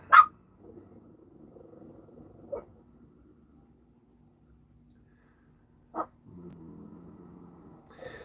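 Dogs barking at other dogs passing by outside a tiny house on wheels, four short sharp barks spaced several seconds apart, with a faint low murmur between them.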